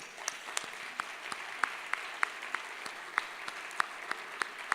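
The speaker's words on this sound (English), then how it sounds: "So round of applause to all of you." An audience at an awards celebration applauds, a thin, steady patter of scattered claps with distinct sharp individual hand claps standing out, fairly distant and moderate in level.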